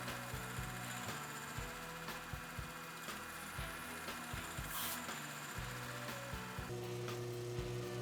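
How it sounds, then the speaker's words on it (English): Machining a knife guard for a full tang knife, with a series of holes drilled and a slot milled: a faint workshop motor hum broken by repeated short grinding bursts of cutting at an irregular pace, no voices. "Drilling a series of holes and then milling the slot in the guard."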